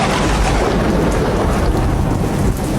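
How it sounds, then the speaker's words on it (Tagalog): Heavy rain pours with rolling thunder, a loud dense roar that fills the whole stretch without pause and eases slightly near the end. "My God, it's raining."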